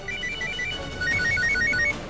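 A mobile phone ringtone plays as a bright repeating electronic melody, one short trilling phrase followed by a faster rising and falling run, clear over a soft indoor background with no talking.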